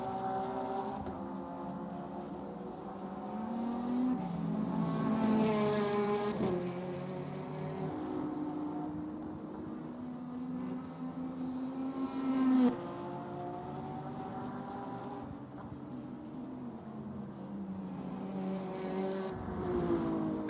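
GT3 race cars, BMWs among them, lapping Sebring in a racing video game, their engines droning and shifting pitch in a steady rising and falling hum, with a louder pass near the middle and no talk.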